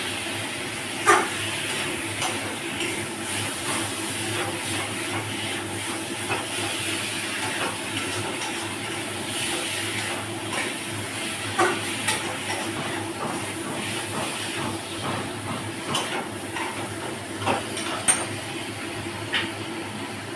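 Chicken fries in oil in a pan, releasing its fat, with a steady, moderate hiss and crackle broken by occasional sharper pops, heard alone without talk.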